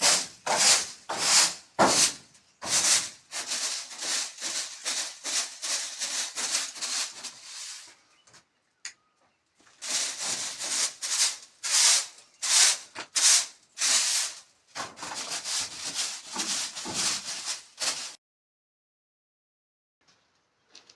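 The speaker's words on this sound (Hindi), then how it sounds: "एक झाड़ू से तो हो नहीं पाता, इसलिए 2-2 झाड़ू लेकर आई हूँ" Two brooms sweep a kitchen floor in a rural hill home, making fast repeated scratchy swishes in bursts with short pauses, close and clear, fading to silence near the end.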